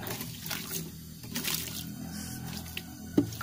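Water poured over a wooden board used for moulding rubber sheets, heard as a steady splashing wash with a few louder pulses, and a short sharp knock near the end.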